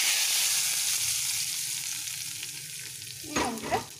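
Curry leaves and urad dal sizzle in hot coconut oil, a steady close frying hiss that fades slightly, with a couple of louder crackling bursts near the end as the leaves hit the oil.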